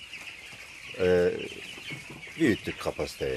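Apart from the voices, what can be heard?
broiler chickens in a poultry house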